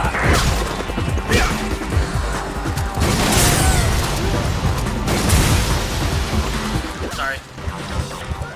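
Gunfire and crashing impacts in the Resident Evil 5 co-op game, a dense, continuous barrage of shots and smashes layered over game noise with voices talking throughout.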